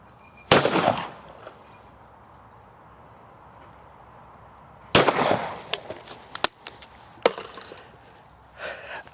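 An old Beretta shotgun fires Fiocchi 24 and 28 gram cartridges outdoors, two loud sharp blasts about four seconds apart, each trailing off into echoing reports and clatter.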